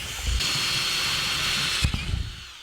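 A 40mm hole saw bores holes for PVC tube at an outdoor picnic build, giving a steady, loud whining grind that runs almost unbroken, then stops abruptly and leaves a few rough knocks and rattles.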